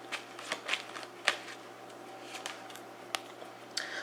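Tarot cards being handled and drawn from a deck, giving soft papery shuffles and a few sharper flicks and snaps spaced out over a few seconds, close and fairly quiet with no talking.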